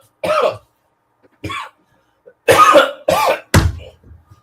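A person coughs in several separate harsh bursts with throat clearing, the last few coming close together, loud and near with quiet gaps between them.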